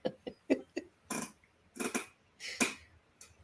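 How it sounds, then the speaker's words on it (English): A chair gives off a run of short squeaky, fart-like creaks, about eight brief bursts in an uneven rhythm, close and fairly loud in a quiet room. "Oh, I wish this chair would stop making that noise."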